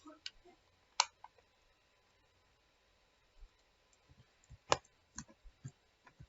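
Keys click on a computer keyboard as a console command is typed for Half-Life 1, with scattered quiet taps and a few sharper clicks coming in small irregular bursts over near silence.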